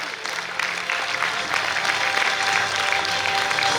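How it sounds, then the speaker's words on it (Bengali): A seminar audience claps loudly as a teacher comes on stage, starting a little softer and swelling into steady, dense applause that continues to the end. "সকলে জোরে হাততালি সৌমা ম্যামের জন্য।"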